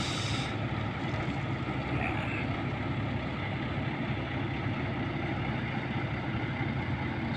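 Old forklift delivering hollow blocks strains with a steady, low, rough engine drone, continuous and moderately close, with no talking over it.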